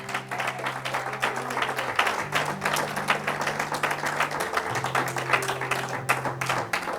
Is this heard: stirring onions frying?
no